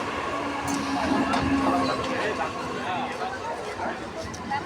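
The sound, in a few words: train arriving at a station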